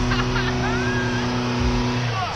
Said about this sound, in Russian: Ладно, пусть Митсубиши едет.